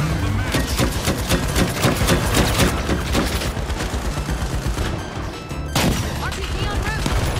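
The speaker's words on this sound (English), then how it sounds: "He's shooting at me!" Rapid bursts of gunfire in The Finals crackle in quick, evenly spaced shots for several seconds, loud and close, then pause briefly before another loud burst.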